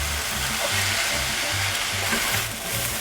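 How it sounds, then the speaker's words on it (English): Fried rice sizzles steadily in a cast iron pan, a continuous close hiss with a low rhythmic pulsing underneath, and no talking over it. "I have it cooking in a cast iron pan today because it really does give it a great texture"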